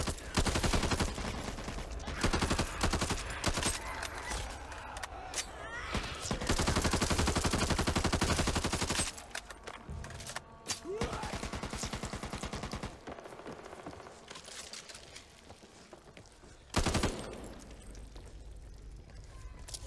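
Gunfire in Back 4 Blood rattles in dense automatic bursts, loud sustained stretches broken by pauses and quieter single shots, with a final sharp burst near the end.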